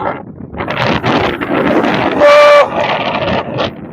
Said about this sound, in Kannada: ಅಷ್ಟು ಗಾಳಿ ಇದೆ